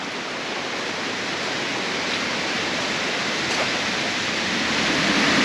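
Middle North Falls on an Oregon canyon trail pours down in a steady, loud, broad roar of falling water that swells slightly toward the end, with no talk over it.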